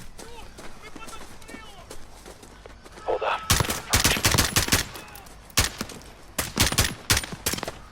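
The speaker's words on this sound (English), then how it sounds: "I think my team ended up shooting most of them this time." Gunfire from the first campaign mission of the Modern Warfare video game: loud, close bursts of rifle and automatic fire break out after a quieter stretch, repeating in clustered volleys.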